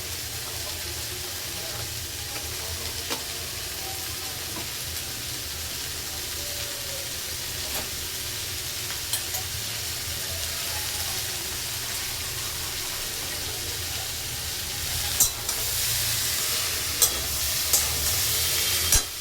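Black chickpea curry fries in a pan as it is stirred, a continuous close sizzle with occasional scraping and clinking of the spoon, growing a little busier toward the end.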